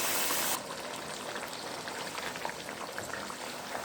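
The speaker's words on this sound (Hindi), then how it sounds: "अब इसको ढककर हम लोग पका देंगे।" Desi chicken karahi simmering under a lid in a pot on a fairly high flame gives a steady close bubbling and sizzling hiss that runs throughout, after a brief louder burst at the start.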